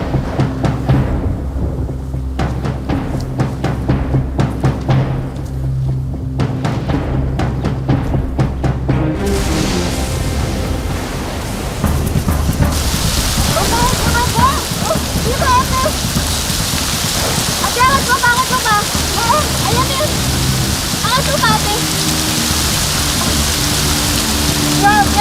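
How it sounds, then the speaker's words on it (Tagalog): Rain begins partway through and builds to a steady, loud downpour, with scattered drops hitting surfaces nearby. "Mukhang babagsak na yung ulan."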